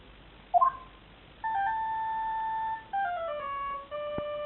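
Electronic phone ringtone from the game Phoenix Wright: Ace Attorney, a short blip followed by a run of sustained, clean synthesized tones that step through a melody, ending on a sharp click.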